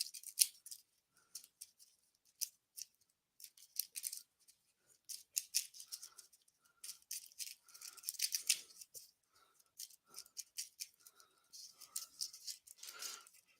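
Racing-themed playing cards shuffled by hand in repeated bursts of crisp riffling and flicking, short clattering runs separated by brief pauses, fairly close and moderately quiet.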